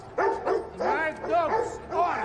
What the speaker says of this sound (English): My dogs are hungry!